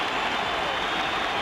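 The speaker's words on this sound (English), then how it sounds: "Really applauding the play of both Seattle and the Bullets." Arena crowd at a 1979 basketball game in Landover, Seattle against the Bullets, applauding steadily; a dense, continuous wash of clapping fills the whole moment without pause.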